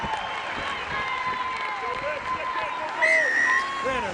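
Spectators at a women's rugby sevens match between New Zealand and Russia in Langford applaud a try, a broad wash of clapping and cheering under continuous commentary that swells briefly toward the end.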